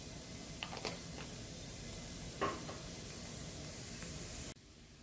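Chopped onion with a little salt softens in a pan for a meat-filled layered pastry, giving a low, steady sizzle and hiss with a few faint scrapes, then cutting off near the end.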